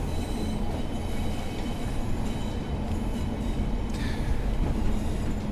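Pacer diesel unit running along the Blackpool South branch, a steady loud rumble of engine and rails with faint wheel squeal, heard from inside with no talk.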